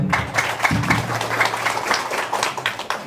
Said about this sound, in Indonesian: Aplaus buat Kang Dani